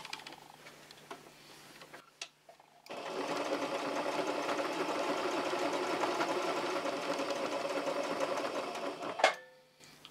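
Sewing machine running in straight stitch on patchwork, a fast, even mechanical whir and ticking that lasts about six seconds, with soft handling sounds and short pauses before and after.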